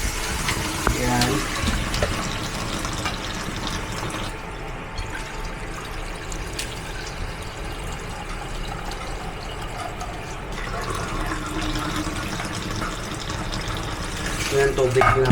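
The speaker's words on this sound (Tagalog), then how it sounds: "Kaya maglagay ako ng tubig." Water pours steadily into a pan of cooking pork ribs, a continuous splashing rush lasting throughout at moderate loudness, with occasional kitchen clatter and a voice speaking over it.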